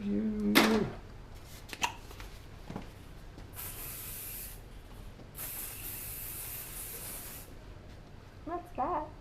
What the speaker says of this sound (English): What's that? Hairspray.